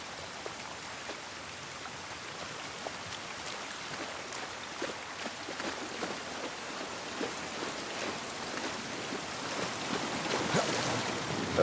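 Steady rainfall in the video game The Last of Us Part 1, pattering across surfaces in a continuous wash with scattered distinct drops, gradually swelling a little louder toward the end, with no voices over it.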